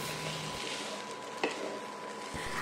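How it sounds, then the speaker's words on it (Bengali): Green chillies and chopped tomato fry in a pan with a soft, steady sizzle, brief scraping stirs and a light knock, quiet and close with no talking. "এখন এগুলো আবার একসঙ্গে ভালো করে কষতে থাকবো।"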